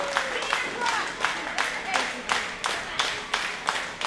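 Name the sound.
wrestling crowd cheering and clapping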